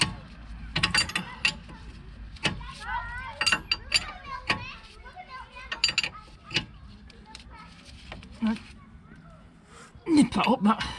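A wrench tightens a nut on a 2009 Mercedes-Benz W204 suspension arm, giving a series of sharp ratcheting clicks and metallic taps in irregular bursts, close by, with talk partly overlapping.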